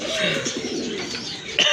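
Black lace pigeons in a loft make low, throaty cooing calls close by, a rolling burst of coos followed by a sharper sound at the end.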